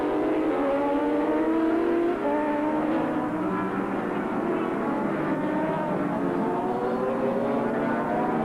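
Suzuki GSX 750R superbikes, race-kitted to about 125 horsepower, scream past at a 1985 road race, engines droning and shifting pitch together as the pack passes, loud and continuous.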